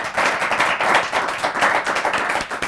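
A small audience claps in a brisk, uneven patter during an interview with a coach, individual hand claps audible in quick rhythmic bursts, close and moderately loud without any talk.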